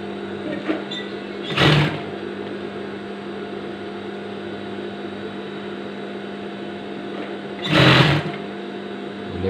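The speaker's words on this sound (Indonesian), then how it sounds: "Kita jahit lagi di sini." A sewing machine stitches fabric for a drawstring-waist gamis dress in two short whirring bursts, nearby and fairly loud, over a constant background hum.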